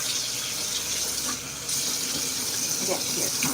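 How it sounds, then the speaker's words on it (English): A kitchen tap runs steadily into a sink while a dish is rinsed under the stream, a continuous close hiss of water with a brief dip partway through and faint clinks near the end. "I'm just going to rinse this out really quickly"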